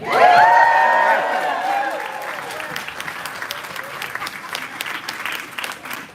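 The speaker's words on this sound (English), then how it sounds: "I need everyone in the room to applaud raucously if you love recycling." A room of attendees at a capstone presentation breaks into loud, raucous applause with some cheering. A voice rises over the start, then dense clapping carries on steadily until it thins near the end.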